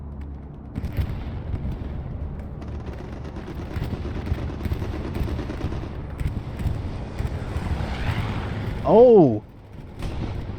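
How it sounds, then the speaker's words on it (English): Artillery shells land and a bombing run rumbles through a World War II shooter match on Utah Beach, a steady low roar of distant blasts and gunfire throughout, with one louder whooshing impact near the end under a brief exclamation. "A great Syndicate bombing run. Artillery landing."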